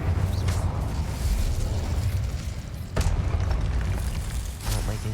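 Fiery spell blast from an Incendio cast in Hogwarts Legacy, a loud continuous roaring burst with heavy low rumble, swelling again midway through with a sharp crackling impact.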